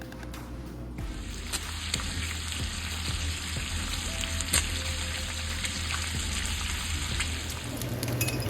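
Bacon fries in a pan with a steady, dense sizzle and scattered pops, close and continuous for several seconds, with no voices.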